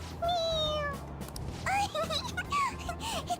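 In Persona 5 Royal, the cat Morgana meows twice in a high, drawn-out way, with a second run of quicker chirpy mews after a short gap, close and clear over a faint game background.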